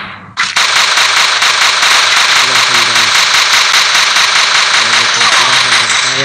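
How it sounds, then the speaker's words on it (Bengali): A vehicle engine in the Free Fire battle game drones loud and steady at close range after a sharp start, with a rapid rhythmic pulsing running through it and faint gameplay sounds underneath. "গাড়ির শব্দ, গাড়ির শব্দ"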